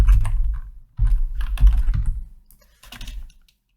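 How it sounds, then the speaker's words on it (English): Keys are tapped on a computer keyboard in short clustered bursts with brief pauses, close and fairly clear, with no talking. "I will type label 1."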